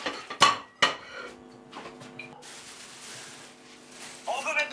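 Metal pots and pans clank and clatter loudly at the start of a kitchen dish-washing chore, then quieter knocks and rattles follow, with a voice faintly present.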